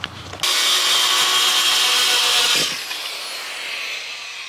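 A power saw cuts the excess off a rough sawn southern yellow pine board in a woodshop, starting abruptly with a loud, steady whine that runs about two seconds before dropping to a quieter run-down.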